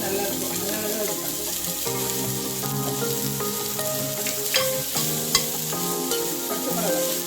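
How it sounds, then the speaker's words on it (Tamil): Cumin seeds sautéing in hot oil for ragi roti make a continuous, fairly loud crackling sizzle with stirring clatter throughout and a couple of sharp clinks near the end, with no voices. "எண்ணெய் காஞ்சோண்டு சீரகம், லேசாக வதக்கிட்டு மாவில் கட்டினா தான் நல்லா இருக்கும்"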